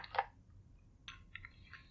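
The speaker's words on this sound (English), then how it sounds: "Our cold open today should just be the sounds of us chewing." Soft, close chewing and squishy bites of Swiss milk chocolate filled with Jack Daniel's Tennessee whiskey syrup, a few quiet wet mouth sounds in a hushed room.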